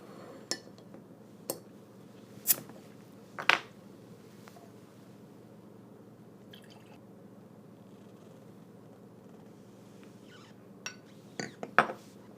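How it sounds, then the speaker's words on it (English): Scattered glassy clinks and a can or cap pop as a Sierra Nevada Rain Check Spiced Stout is opened, then sparse taps and a soft pour into a glass near the end, in an otherwise quiet room. "let's go ahead and get this cracked open into a glass"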